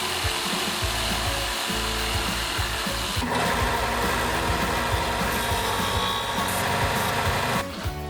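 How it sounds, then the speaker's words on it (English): A wood rasp shapes a pallet wood curtain rod bracket with steady, close, continuous rough scraping strokes that run almost without pause. "I'm using a wood rasp just to make this prettier."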